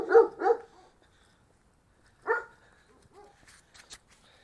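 Several German shepherd dogs barking outdoors on a hillside: a quick pair of loud barks, then a single bark, followed by fainter yips and scattered barks further off.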